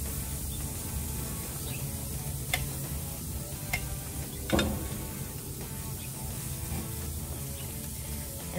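Soft, steady sizzle of flank steak cooking on a grill, with a few faint ticks and clicks scattered through.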